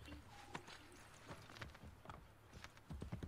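A horse's hooves clip-clop in Assassin's Creed Brotherhood, with irregular, close hoof strikes at a walking pace over a quiet game background and faint sounds.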